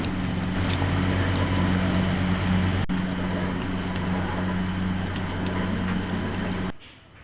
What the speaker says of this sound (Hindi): इसमें हम ये पकोड़े डाल रहे हैं, आलू वाले पकोड़े। हल्के आंच पे बिल्कुल सेकना है इनको